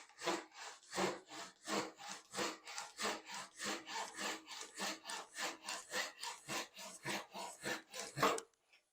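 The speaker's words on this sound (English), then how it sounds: "Now, of course, we are using the cross-cut side of the saw." Hand saw cross-cutting a piece of wood with the cross-cut side of the blade, about twenty steady, evenly paced rasping strokes, close and loud, with no talk.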